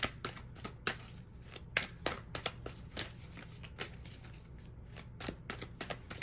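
A deck of tarot cards is shuffled close by in rapid riffling bursts, with crisp snapping card edges repeating irregularly and no voices.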